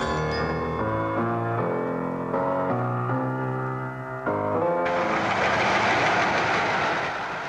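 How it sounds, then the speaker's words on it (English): Diesel electric train departing, recorded in 1967, with a horn-like tonal blare stepping through pitches before giving way to a loud rushing rumble of the moving train. "a diesel electric will do just as well, and within minutes, they're away"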